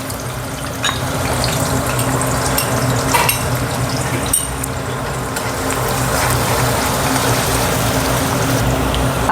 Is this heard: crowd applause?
no